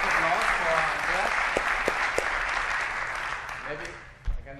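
Applause from a conference keynote audience for Andreas, a steady crowd of clapping that holds for several seconds and thins out toward the end, with a short voice breaking in near the close.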